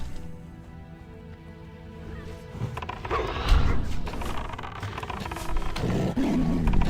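A hunter's pet tiger in Turtle WoW lets out a deep roar that builds and rumbles on for several seconds, loud and close, with thuds and impacts from the fight mixed in.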